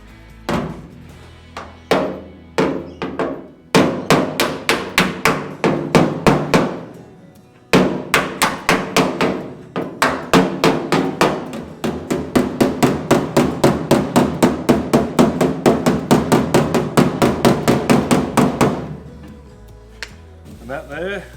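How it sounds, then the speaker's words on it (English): Hammer and dolly knocking metal on the rear wheel arch of a Ford Landau, in long runs of rapid, sharp, ringing metallic blows. The strikes are loud and close, with brief pauses between bursts. "we'll do an exact reversal and have the dolly on the inside and the hammer knocking down the high part"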